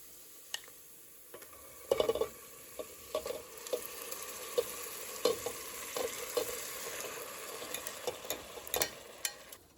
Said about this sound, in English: So we've got onions going in butter, and we've got garlic there too